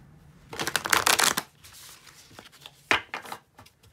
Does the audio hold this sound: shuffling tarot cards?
yes